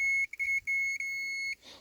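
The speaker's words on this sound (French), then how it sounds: "normalement d'avoir le buzzer qui sonne" Hood-ajar contact buzzer on a RAM 1500 pickup, a steady high-pitched electronic tone sounding in several short close beeps before holding continuously, then cutting off.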